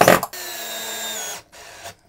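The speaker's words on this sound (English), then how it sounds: "now I'm gonna go ahead and secure it with the screws" A power driver running screws into a standing desk's control box: a brief burst, then a steady whining drive lasting about a second, a short pause and a second shorter run, close and alone.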